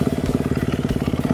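A Kawasaki KX250F dirt bike engine chugs along a woodland trail with a rapid, even thumping pulse, close and steady throughout with a faint clatter over it.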